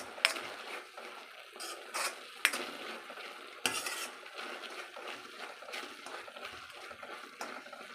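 Thick carrot halwa being stirred in a pan, a spoon scraping and clinking against the metal in irregular strokes with a soft sizzle underneath, close and fairly quiet, no voices.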